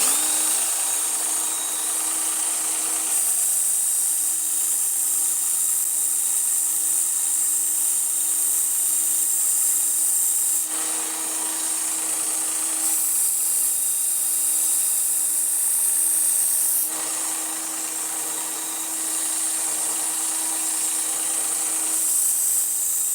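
A D2 steel knife blade is sharpened with a loud, continuous high grinding whine. The sound comes in long, even passes with slight shifts between strokes, and no one speaks.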